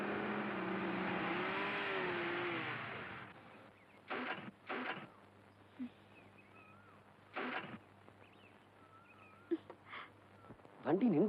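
A vehicle engine drones loudly for a few seconds as it arrives, then cuts out as it stops, leaving a quieter scene where people talk in short bursts.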